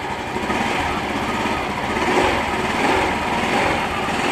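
Motorcycle engine revving loud and close while the throttle is worked on a bike with its throttle body being cleaned, a steady buzzing roar that swells slightly mid-way, with no talk over it.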